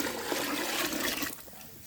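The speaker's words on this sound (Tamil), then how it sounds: "இப்போ தண்ணி ஊற்றிக்கலாம்." Water is poured into a pot of partly cooked meat for Dindigul biryani, a steady splashing, gurgling stream that runs strongly, then thins to a quieter trickle near the end.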